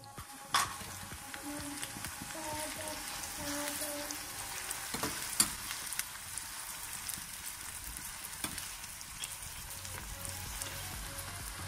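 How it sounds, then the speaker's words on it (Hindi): Chopped onions frying in hot oil in a pan for kadhi pakora, a soft steady sizzle with occasional clinks and stirring, heard close but fairly quiet. "हमारा ऑयल जो है वो गर्म हो चुका है अभी हम इसमें ऐड करते हैं बहुत प्याज हमने प्याज शामिल कर दिया इसको ब्राउन करना है"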